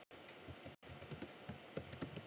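HTML code being typed on a computer keyboard, a quiet, quick run of soft key clicks with two brief pauses, heard alone.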